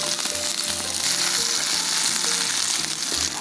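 Chopped onion and garlic fry in hot mustard oil with black mustard seeds for a mustard chicken dish, giving a loud, steady, close sizzle that crackles throughout without pause and with no voices.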